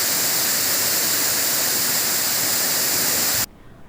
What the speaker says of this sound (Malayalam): ആര്യൻകാവ് പാലരുവി വെള്ളച്ചാട്ടവും മെലിഞ്ഞു.